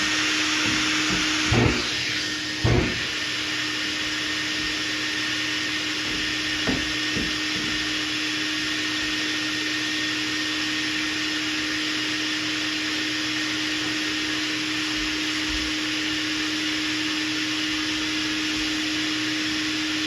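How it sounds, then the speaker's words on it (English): Shop vacuum cleaner running steadily in an auto body shop during guide-coat block sanding of filler primer, a constant loud whine and hiss throughout with a few brief knocks near the start. "I'm going to turn the vacuum cleaner on here."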